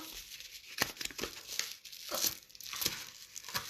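Paper envelope handled up close, with bursts of crinkling and crumpling that come and go in an irregular rhythm, moderately quiet with no voices.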